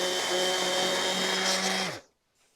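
Power tool trimming overhanging wood flush while building a kitchen island from reclaimed scrap wood: a loud, steady motor whine that runs for about two seconds and then winds down and stops.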